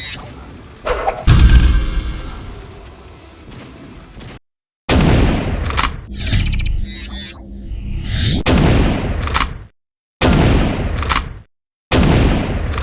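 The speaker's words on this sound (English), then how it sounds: "Requiem, Avenging Angel. Shotgun. The impact on this one is pretty good." Shotgun firing in the video game Requiem: Avenging Angel, loud heavy booming blasts with hard impacts, several shots spaced by short gaps and silences, alone without talk.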